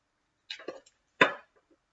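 Air-fried frozen chicken breast gives two sharp crunches of biting and chewing, close and crisp, separated by a short pause in otherwise near silence.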